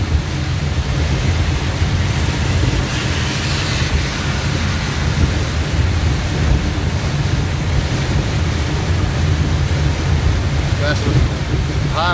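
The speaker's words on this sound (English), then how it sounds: "That's a high wind too." Heavy wind and rain batter a car driving slowly along a 65 mph highway, making a steady, loud, broadband roar that never lets up.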